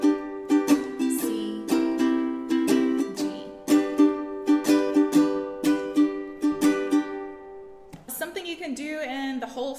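Ukulele strumming a 12-bar blues progression in G, steady rhythmic strums with chord changes, close and clear, ending with a brief shift to lighter picked notes near the end.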